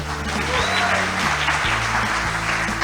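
An investor summit audience gives a brief burst of applause, a steady wash of clapping over a loud, sustained musical tone underneath.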